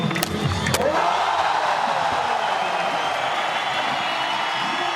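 A pro skater lands a nollie hardflip with no slide at a Street League street skating contest in Foz do Iguaçu, 2013: sharp board pops and a slam up front, then a loud, sustained roar of crowd cheering.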